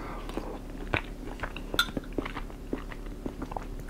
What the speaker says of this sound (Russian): Давайте продегустируем мясо уже в горячем виде.